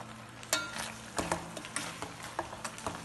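Mushrooms sautéing in a pan, a quiet soft sizzle punctuated by a string of spatula taps and scrapes against the pan, with a faint steady hum beneath and no speech.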